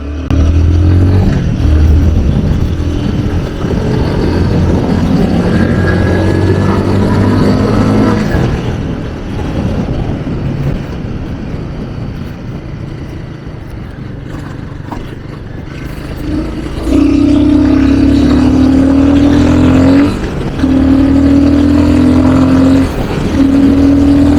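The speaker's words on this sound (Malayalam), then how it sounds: "സോ നമുക്കൊരു എക്സോസ്റ്റ് സൗണ്ട് കേൾക്കാം" Royal Enfield Guerrilla 450 motorcycle idling and revving, a steady close exhaust drone that rises into strong, loud blips in the later half, with no talking.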